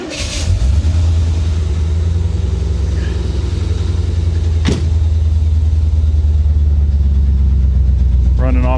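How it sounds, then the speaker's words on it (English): Chevy Corvette rescued from a Florida swamp, started with the key and left running on its own gas tank; a loud, steady low engine rumble fills the whole stretch, with a sharp click partway through and a brief noise near the end. "Let's go ahead and fire it up real quick for you guys."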